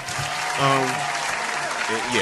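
Audience applause at a live talk show, a steady wash of clapping from a crowd, with a voice speaking over it.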